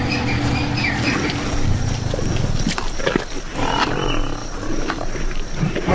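Lions in the wild, their deep, rumbling roars and grunts layered in a dense, continuous chorus against a loud outdoor backdrop, with no talking.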